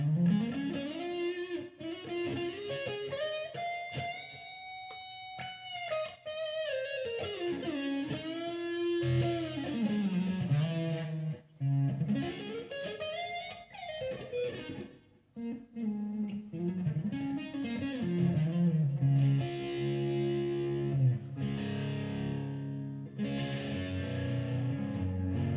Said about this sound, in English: When you back off the volume just a little bit, instead of being full, you can hear it soften a little bit.